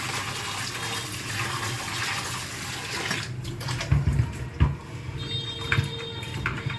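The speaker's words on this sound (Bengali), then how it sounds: "এবার একটু ধুয়ে নেবো, ধোয়া আছে, একটু আর একবার করে ধুয়ে নেব।" Tap water runs steadily in a small flat's kitchen while chopped carrots and capsicum are rinsed, a broad rushing wash with a few louder splashes and clatters toward the end, no voices.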